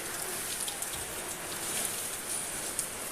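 Steady rain falls during an outdoor puja with an oil lamp lit: a dense, even hiss of drops hitting surfaces close by, with no pauses and no talking.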